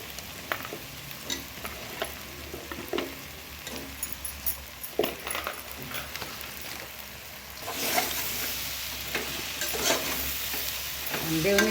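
Sliced mushrooms for mushroom biryani frying in oil in a pan, a steady close sizzle broken by repeated scraping strokes of a stirring spoon, the hiss swelling louder toward the end.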